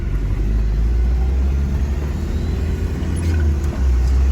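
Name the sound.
1992 Isuzu Rodeo turbo diesel accelerating on road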